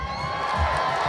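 A crowd cheers and whoops at a Marvel heroes show aboard the Disney Wonder cruise ship: a loud, steady roar of many voices, with faint tonal lines running underneath, lasting about a second.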